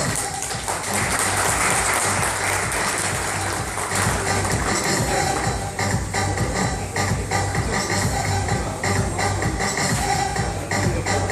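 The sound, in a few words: audience applause for distributors at product launch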